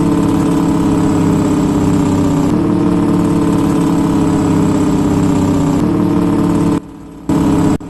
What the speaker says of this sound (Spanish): Vamos bajando esto a freno motor.